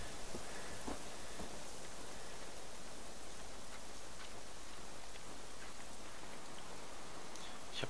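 Rain in the Generation Zero video game: a steady, even hiss of rainfall with a few faint drop ticks, moderately quiet and constant throughout.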